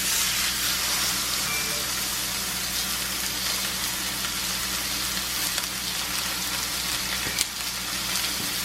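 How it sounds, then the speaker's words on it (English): Pot roast meat browns in a hot pan with a constant, loud broadband sizzle and hiss, punctuated by a few small pops and crackles. "So I'm gonna just brown this on both sides"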